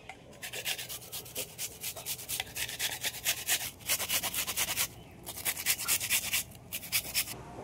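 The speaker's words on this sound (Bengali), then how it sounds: "পেঁয়াজ দুটো আমি গ্রেট করে নেব" Two onions rasped against a grater in quick repeated strokes, a close scratchy rhythm with brief pauses between bursts.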